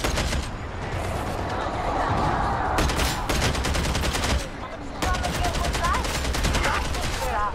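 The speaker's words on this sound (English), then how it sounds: "I'm absolutely shooting trash here and I shouldn't be." Rapid, sustained gunfire from Warhammer 40K: Darktide rattles loud and close in dense bursts, breaking off briefly near the middle before the shooting resumes just as heavily.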